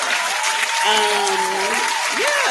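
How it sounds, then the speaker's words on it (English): Audience applause in a live-streamed talk show setting, a steady wash of clapping lasting a couple of seconds with a faint tonal, voice-like sound drifting over it. "Round of applause for me."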